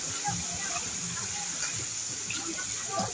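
Water current rushing in a swimming pool, a steady broadband wash and splash throughout, with people talking and a voice over it.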